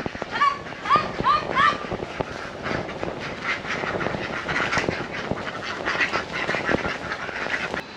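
Ducks at the pond of an old zamindar house in Manikganj give a few quick quacks early on. A dense, noisy outdoor background with scattered knocks and clatter runs underneath throughout.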